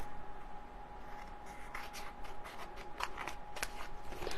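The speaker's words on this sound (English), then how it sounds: "why am I using those squeaky scissors?" Scissors snipping along the edge of an artist trading card, a few crisp cuts and faint squeaks over a low background hiss, with no talking.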